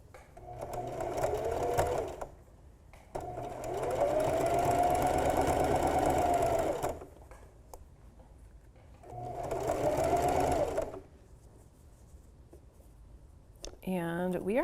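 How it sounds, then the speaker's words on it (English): A sewing machine stitches a seam on an upcycled tee, a steady mechanical whirring hum running in long bursts with short pauses between them. "now we're sewing right back down the other side"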